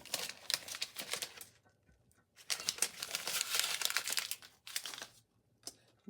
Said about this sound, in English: I'm just going to remove the butcher paper first